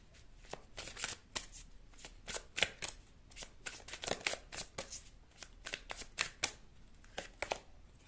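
Tarot cards being shuffled for a pick-a-card reading, a steady run of quick papery riffles and flicks close up, repeating irregularly throughout with no voices.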